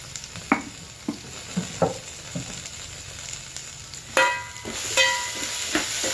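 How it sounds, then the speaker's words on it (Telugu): Cumin, coriander seeds, peppercorns, cloves, cinnamon and garam masala powder fry in a pan for brown rice, a light sizzle under irregular spoon knocks and scrapes that swells into a louder hissing burst toward the end. "జీలకర్ర, ధనియాలు, మిరియాలు, లవంగాయ చెక్క, గరం మసాలా పౌడర్ వేసుకుంటున్నాను. బాగా వేగాలి."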